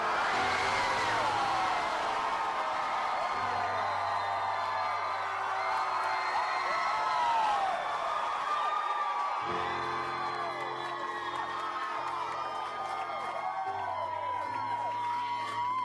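A concert crowd in a large venue cheers, whoops and yells continuously, a loud sustained roar of many voices with sharp individual shouts rising over it throughout.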